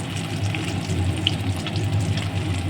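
Duck eggs fry in a pan of hot oil with a little chili powder, giving a steady close sizzle and crackle that runs throughout, with a few brief pops and no talking.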